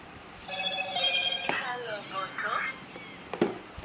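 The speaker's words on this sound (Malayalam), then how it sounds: "എൻ്റെ വീട്ടിലൊരു പഴയ ഏതൊരു ഫോൺ കിടപ്പുണ്ട്. അതിരുന്ന് അലാറം അടിക്കുന്നതാണ്." An old telephone sounds an alarm, giving a bright, repeating electronic tone in short bursts over a few seconds, with faint background noise and clicks.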